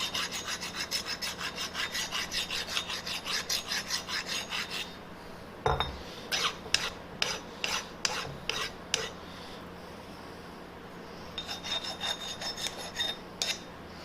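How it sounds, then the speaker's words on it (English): Coarse file rasping across metal on a Kearney & Trecker machine attachment part, with rapid steady strokes for several seconds, then a pause, a series of separate slower strokes, and more quick rasping near the end, close and moderately loud. "I want to do a little bit of cleaning and do some filing. I use this coarse file like so."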